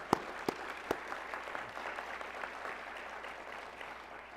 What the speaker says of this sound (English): how about giving yourselves a round of applause as well?